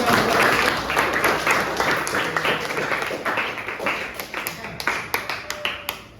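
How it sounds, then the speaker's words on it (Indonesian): Applause for a student in a classroom lesson, a sustained wash of many hands clapping that thins into scattered, distinct claps toward the end. "tepuk tangan dulu buat Arkan"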